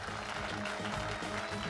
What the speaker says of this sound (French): Je pense qu'il mérite qu'on l'applaudisse tous.